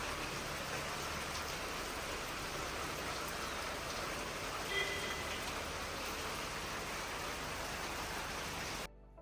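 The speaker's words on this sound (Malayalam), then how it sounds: "പുറത്ത് ആ മഴ പെയ്യുന്നതിൻ്റെ സൗണ്ട് ഞാൻ കുറച്ച് നേരം നിങ്ങളെ സൗണ്ട് കേൾപ്പിച്ചു തരാം" Steady rain falls outside a bedroom door at a stay in Munnar, a dense even hiss of drops that continues unbroken without any talk before cutting off at the end.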